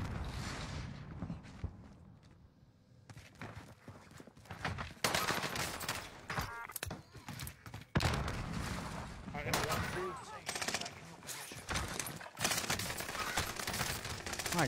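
Rapid bursts of gunfire in Call of Duty: Warzone on the Caldera map, sharp repeated volleys and fusillades with short gaps, loud and close, mixed with game mechanisms and occasional voices.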